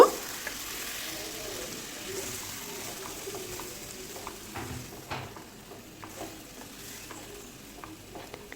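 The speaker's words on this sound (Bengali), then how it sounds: "লাউ চাল খুব ভালোভাবে মিশিয়ে নেব" Bottle gourd and Gobindobhog rice being stirred together in a pan, with a soft steady sizzle and scattered scraping strokes at a moderate, even level throughout.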